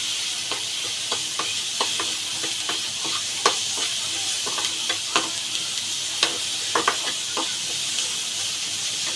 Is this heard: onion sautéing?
yes